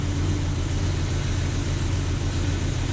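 A car engine idles steadily at close range during a front end inspection as the steering wheel is turned, giving a constant low rumbling hum with no revving.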